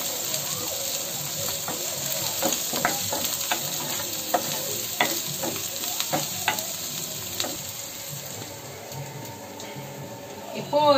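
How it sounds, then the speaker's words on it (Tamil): Onions, ginger garlic paste and turmeric powder sautéing in a pan for prawn gravy give a steady close sizzle, with repeated scraping knocks from a stirring spoon throughout and no voice over it. "மஞ்சள் தூள் ஆட் பண்ணி நல்லா வதக்கிக்கலாம்."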